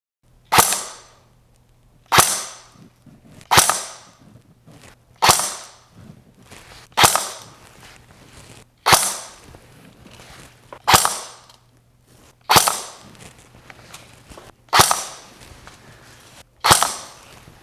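Ten sharp shots from an APS airsoft gun with a Silver Edge V2 gearbox ring out over a chronograph, each a loud crisp crack with a short decay, evenly spaced about every one and a half seconds, no talk.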